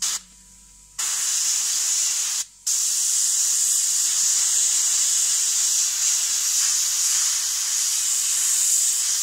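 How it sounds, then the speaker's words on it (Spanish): An airbrush sprays paint onto an old, rusty tin can in a steady bright hiss. The hiss breaks off briefly twice early on, then runs unbroken to the end. "echamos unas gotitas al aerógrafo y vamos al tema, vamos a pintar"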